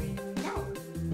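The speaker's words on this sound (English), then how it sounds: "A doggy, aww." Small dog giving a few short yips and barks mixed with whimpering, close and fairly quiet, in quick uneven bursts over about a second.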